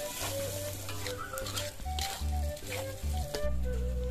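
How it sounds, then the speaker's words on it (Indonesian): Spice paste sautéing in a pan for Indonesian tumpeng rice, a steady sizzle with scraping stir strokes and soft tonal clinks over a low hum, close and moderately loud throughout. "kita akan tumis dulu bumbu yang akan kita siapkan untuk pembuatan nasi"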